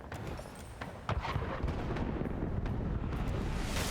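Ship cannons fire in a naval battle in Pillars of Eternity II: Deadfire, a heavy booming rumble with a sharp blast partway through, then a sustained roaring barrage of impacts.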